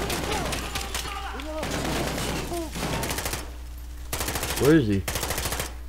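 Rapid bursts of automatic gunfire rattle in the Modern Warfare video game campaign, loud and close, broken by short pauses, with a voice talking briefly between and over the shots.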